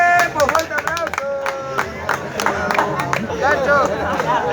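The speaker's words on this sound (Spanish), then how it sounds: "¡Fuerte aplauso!" A crowd at a 2-vs-2 freestyle rap battle quarterfinal claps and cheers, with loud whoops and shouting voices riding over uneven, close clapping.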